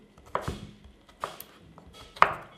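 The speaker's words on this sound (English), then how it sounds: "bamboo shoots, again chopped into small pieces" Bamboo shoots are chopped into small pieces on a board, three or four sharp, separate knife strikes spaced unevenly over a quiet background.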